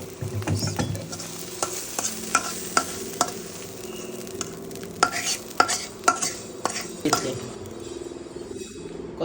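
Hot oil sizzles steadily in a pan as home cooking for a tomato chutney gets underway, with bay leaves and cumin about to go in, broken by repeated sharp clinks and scrapes of a utensil against the pan.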